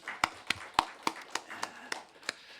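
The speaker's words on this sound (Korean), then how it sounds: "우리 하나님 앞에 감사와 영광의 박수를 올려드리겠습니다." Congregation at a Christmas afternoon church service clapping in unison, about nine sharp, evenly spaced claps in slow rhythm, fairly close and clear.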